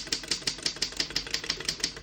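Typing on a vintage 1934 Underwood No.6 desktop typewriter, about a dozen crisp, evenly spaced keystrokes clacking in a quick steady rhythm, close and clear with no voices.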